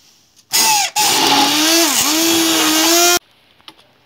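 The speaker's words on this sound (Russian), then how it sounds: "И начинаю блендером все это взбивать." A blender whipping sour cream with sugar starts abruptly and whirs loudly for about three seconds, its motor pitch wavering briefly, then stops, leaving near silence.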